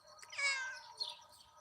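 A cat meows once in a drawn-out, fairly close call, followed by a shorter second cry, with no talking over it.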